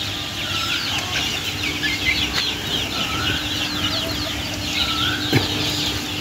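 Backyard chickens let outside for the day, with a rooster among them, cluck and call on and off at moderate distance, with a flutter of wings and a steady low outdoor rumble underneath.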